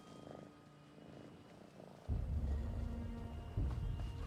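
A cat purrs in a video game with a low, rough rumble that swells louder partway through, a soft pulsing texture under faint game ambience with no talk.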